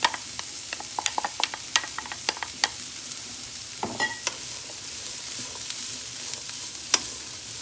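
Celery hits a hot pan for pea soup, giving a steady low sizzle broken by frequent sharp clicks and scrapes from stirring, a little louder at the start.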